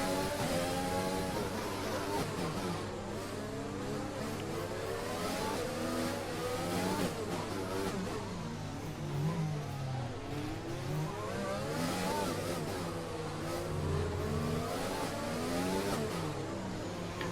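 Formula 1 race car engines screaming around the Monaco street circuit in a racing video game, a continuous high-revving whine with rising and falling gear shifts, steady and loud throughout.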